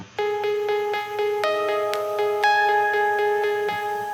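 A free synth preset played through an amp, ringing out as a bright, sustained harmonic tone that steps through a short sequence of repeated pulsing notes, steady and alone with no voices.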